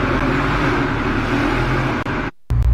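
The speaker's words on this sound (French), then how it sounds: "Le bruit de la série S. Black Series." Mercedes S-Class Black Series sports car engine on the Côte d'Azur, a loud steady roar held close for about two seconds before cutting out briefly and returning.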